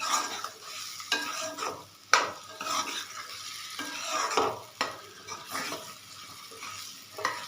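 Fried chickpeas stirred into chana masala in a metal pan, a spoon scraping and clinking in uneven strokes over a soft sizzle, close and without voices.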